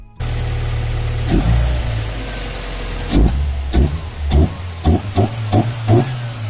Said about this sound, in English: But that induction noise is quite nice. So here's a clip of the pod filter.